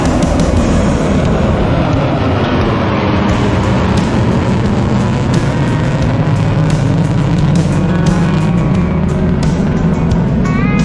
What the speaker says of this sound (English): B-1 Bomber